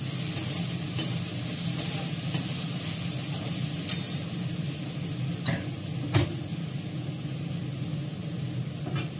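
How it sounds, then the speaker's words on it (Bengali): Potatoes sizzle steadily in a pan while a spatula scrapes through them every second or so, the frying hiss constant and close. "আলুটা ভালো করে ভাজা ভাজা করে নেবো"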